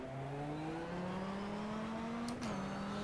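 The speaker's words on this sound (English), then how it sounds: "I hear a couple cars behind me." Race car engines in the sim racing game GTR 2 drone steadily, their tone climbing gradually as the cars accelerate, with a brief shift in pitch near the end. The sound is continuous and fairly close, with no talking.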